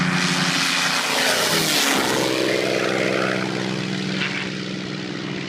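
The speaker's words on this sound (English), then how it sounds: "This plane took off really close to the person holding the camera." Propeller airplane taking off very close by, a loud, raspy engine and propeller drone that swells and sweeps past with a pitch shift, then gradually fades as the aircraft climbs away.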